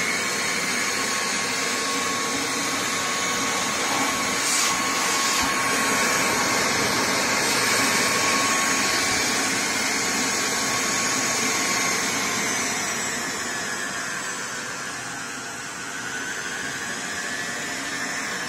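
A powerful homemade robot vacuum cleaner runs continuously with a loud, steady motor whine and airy rushing roar, close by, its pitch dipping briefly and then settling near the end.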